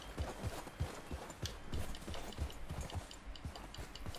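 Horse hooves gallop steadily in the Western game Red Dead Redemption 2, a quick repeating clip-clop rhythm of muffled thuds over a hissing outdoor wash, moderately close and fairly faint.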